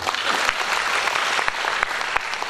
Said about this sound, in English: Now we have to clap again.